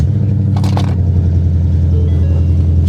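A 2015 Ford Mustang GT with a manual gearbox and cat pack exhaust idles with a loud, steady deep rumble heard from close by, with a brief higher rasp near the start.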